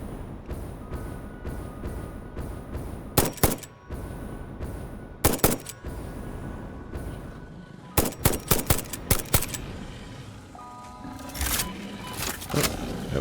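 Rifle fire in the video game Satisfactory comes as scattered sharp cracks, some single and some in quick clusters, over a steady ambient game background.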